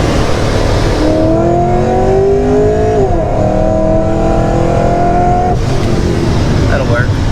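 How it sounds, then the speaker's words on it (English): A car pulls hard in second gear, its loud engine note climbing steadily, dipping briefly, then climbing again before easing off, heard from inside the cabin. "So let's do a little downshift a little. There's a second gear. We do a second gear pull."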